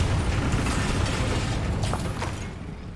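A Bombarda spell explodes in Hogwarts Legacy, a loud, dense blast whose roar holds steady and then slowly dies away, with no voices over it.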